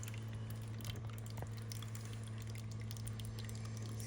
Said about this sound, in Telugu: అసలు 1 by 1 వాటర్ పడుతూనే ఉన్నాయి.